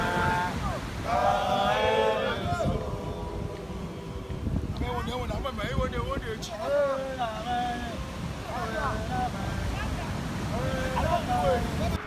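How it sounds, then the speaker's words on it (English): Surf foams and washes along a beach shoreline where fishermen haul a net from the ocean, a steady, breezy roar of water that sits beneath a narrating voice throughout. "As the water foams at the shoreline"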